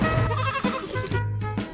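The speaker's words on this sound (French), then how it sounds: "Cette petite chèvre est juste en train de harceler sa pauvre amie." A small goat bleats close up in several loud, wavering cries one after another, with no talk.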